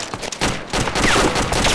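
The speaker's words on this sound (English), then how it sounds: "Where are you shooting at me from?" Dense gunfire in the Arma military shooter crackles as a continuous, chaotic rattle of overlapping shots, loud and close, with no clear gaps between reports.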